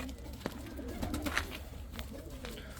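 Pigeons coo softly nearby, low throaty calls repeating over faint background noise.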